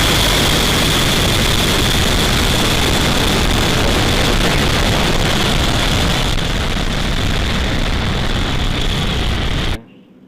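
Falcon 9 rocket engines thundering after liftoff on a flight carrying 53 satellites, a loud, steady broadband roar that holds for nearly ten seconds before cutting off abruptly.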